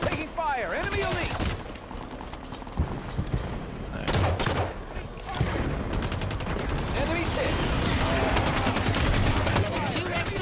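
Halo 5 multiplayer gunfire, dense bursts of automatic weapon fire and impacts in a chaotic battle, loud and near, broken by brief pauses, with voices talking over the shooting.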